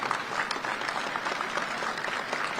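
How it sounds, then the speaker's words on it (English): Audience applause for students at an awards ceremony: steady, dense clapping from a crowd throughout, fairly close and even in level, with no voices standing out. "Teacher students, a round of applause."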